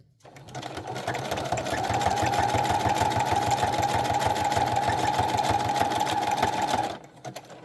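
A sewing machine stitches a paper junk journal pocket for a Christmas candy box journal, running in one loud, steady buzzing burst of about six seconds before stopping, with no talk over it.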